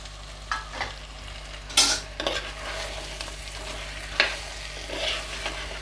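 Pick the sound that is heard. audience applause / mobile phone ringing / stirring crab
stirring crab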